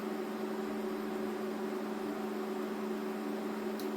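Air fryer running while cooking ciabatta bread at 170 degrees, a steady close hum with a constant fan whir and faint hiss, alone and unchanging throughout.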